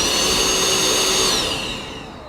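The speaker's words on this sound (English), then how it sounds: "this is a dust collector, and it's set up so it's a separate unit" A Bosch Bulldog dust extractor, a separate battery-powered unit paired with an SDS Plus rotary hammer, whirs with a loud steady whine that begins spinning down near the end; no voices.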